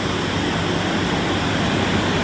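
A Biman Bangladesh Airlines airliner on the apron at Dhaka airport gives off a continuous, even engine roar and broad whine, close by and unbroken throughout.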